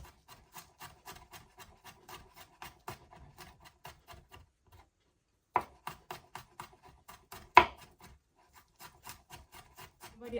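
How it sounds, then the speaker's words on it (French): A knife chops two garlic cloves on a board for a Moroccan summer salad, steady quick taps with a brief pause midway, then more irregular cuts with a couple of louder knocks, close and alone. "je vais hacher 2 gousses d'ail"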